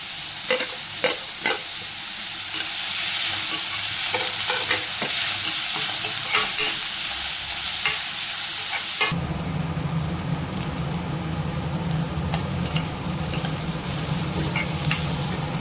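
Chopped onions and crushed garlic frying in a pan: a loud, steady sizzle with scraping stirs and small pops, then a sudden shift to a duller, lower frying hiss for the rest.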